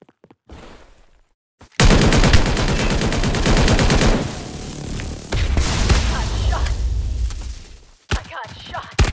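Loud, close automatic gunfire in the battle royale game Omega Legends, a long continuous burst followed by a second sustained stretch of shots, with quieter gaps before, between and after the bursts.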